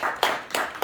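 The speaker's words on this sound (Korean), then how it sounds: "박수 한번" A few separate hand claps at a book concert, roughly three sharp bursts spaced about a third of a second apart, close and moderately loud.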